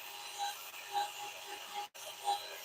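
Sandpaper rubbed against a spinning wood piece on a woodturning lathe gives a faint, rhythmic rasping swish repeating about every half second over a low motor hum.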